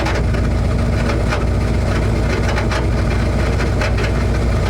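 Ford F100 truck engine idling loudly through headers with a steady low rumble and a faint rubbing or binding noise beneath it, continuous and close, with no talk.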